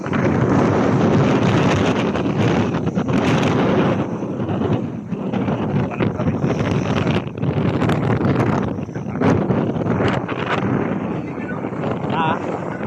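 Strong, steady wind buffets the microphone outdoors in Saudi Arabia, a loud continuous roar with gusty surges and people talking faintly underneath.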